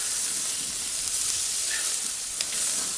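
Harissa chicken sizzles steadily on a barbecue, a close, continuous crackling hiss with faint pops and no talk.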